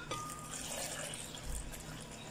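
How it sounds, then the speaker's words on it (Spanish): About 700 millilitres of water pour steadily into a blender jar for a ginger and turmeric smoothie, a close, continuous splashing fill with no talking. "Vamos a agregarle aproximadamente unos 700 mililitros de agua."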